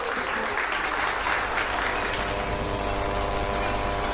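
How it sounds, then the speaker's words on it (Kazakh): Wedding guests applaud in a dense, continuous burst of clapping that holds an even level from start to finish, loud and close. "Қошеметтеріңіз"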